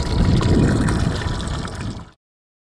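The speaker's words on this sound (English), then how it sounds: "You can see the low well is turned off and the pump begins to pump." RPS solar well pump starting up and pushing water, a steady gurgling, splashing flow that runs close and loud for about two seconds before cutting off abruptly.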